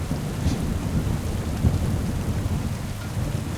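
Steady rain pours in Kingdom Come: Deliverance II, with a low rumble of thunder rolling beneath it, a dense continuous wash at even volume throughout.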